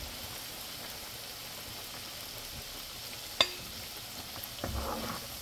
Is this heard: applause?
no